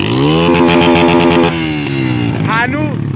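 A motorcycle engine revs against the rev-limiter cutoff in Iran with a steady, rising drone, loud and close, and its pitch shifts toward the end.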